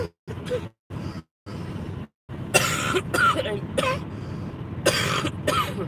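A person sitting in a car gives a series of harsh, close coughs and throat clearings, several short bursts separated by pauses, then a rougher cluster of heavier coughs.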